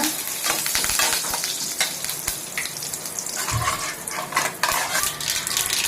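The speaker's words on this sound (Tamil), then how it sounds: "கடுகு, கடலப்பருப்பு போட்டுக்கோங்க. கடுகு நல்லா பொரிஞ்சு வரட்டும். கருவேப்பிலை போட்டுக்கோங்க." Mustard seeds, chana dal and curry leaves splutter in hot oil for a kurma, making a loud close crackling sizzle with brisk popping and spoon-on-pan clinks.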